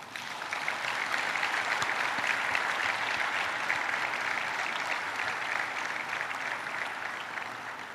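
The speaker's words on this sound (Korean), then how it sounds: "깊은 존경과 감사를 표하는 힘찬 박수를 부탁드립니다" Sustained, dense applause from a large audience fills the hall at South Korea's 75th Liberation Day ceremony, a steady, even roar of clapping lasting throughout, loud and without talk.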